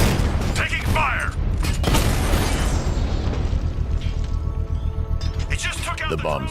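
Gunfire and mechanical clatter in the Batman: Arkham Knight video game, loud and dense bursts with booming impacts that fill the whole stretch, while voices shout over the combat.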